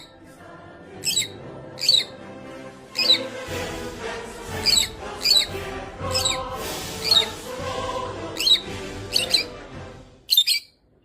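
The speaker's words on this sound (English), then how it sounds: "Here a little video representing civilized birds arguing politely without interrupting each" Birds squawk and chirp in sharp bursts, about ten loud calls coming one after another at a fairly even pace over a busy background chatter of softer chirps, with no voices.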